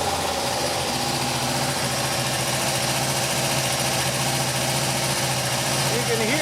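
A Porsche 914 engine idling steadily and slowly settling back down, a continuous close mechanical drone with a low pulsing hum throughout, some faint background noise and no clear change in pace.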